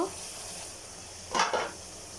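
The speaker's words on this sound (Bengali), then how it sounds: "তরকারিটা একটু নাড়াচাড়া করে নিব" Curry is stirred in a pan, a soft steady simmering hiss with two quick scraping strokes of a spoon against the pan near the end.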